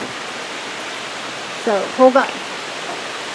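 Rain falls steadily beyond a porch roof in a constant hiss, while someone briefly speaks close by over the downpour.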